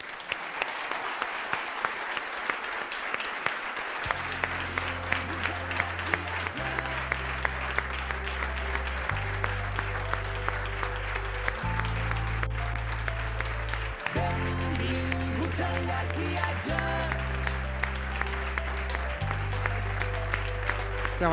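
An audience applauds steadily after a political speech at a Rubí campaign event, while loud music with a booming bass line plays along.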